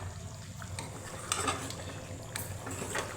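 Egg kurma is stirred in a pan with soft, faint scraping and wet swishing over a gentle background hiss, including a few brief louder strokes.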